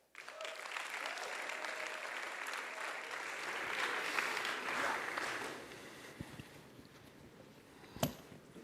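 An audience applauds to welcome speaker Michael Wear at a Christianity and public life event: sustained, dense clapping swells and then tapers off over several seconds, ending with a single sharp knock.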